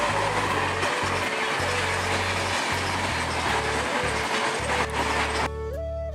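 A train passing on a railway line close to a house, a loud continuous rumble with rhythmic clacking of wheels over the rails, heard alone and cutting off abruptly near the end.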